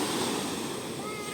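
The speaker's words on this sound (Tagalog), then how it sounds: "Malaking alon, kalalabas lang ng bagyo natin." Big ocean waves churned up after a storm roar as a continuous broadband wash of surf, loud and close, with wind buffeting the microphone.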